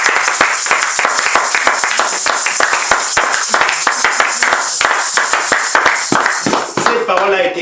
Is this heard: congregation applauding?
yes